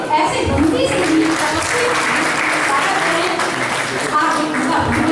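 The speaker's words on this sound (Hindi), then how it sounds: "एक बार जोरदार तालियों से" Audience applause at a formal Hindi-language event introducing dignitaries and a research institute, a steady dense wash of clapping sustained throughout with voices mixed in.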